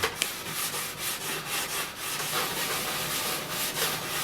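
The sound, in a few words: rubberized stone rubbing snowboard edges to remove burrs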